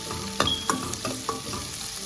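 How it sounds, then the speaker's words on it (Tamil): Onions with salt and green chillies sauté in a pan for cauliflower poriyal, a steady close sizzle with a few sharp clicks of a spoon stirring against the pan. "வெங்காயம் பொன்னிறமாக ஆற வரைக்கும் வதக்கிக்கலாம்."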